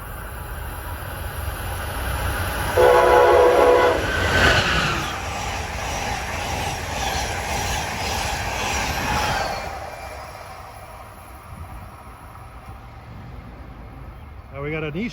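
An Amtrak passenger train from New York to Washington passes on a Philadelphia-area line, a loud rushing roar with wheel noise and a brief squeal that swells, holds, then fades into ambient sound.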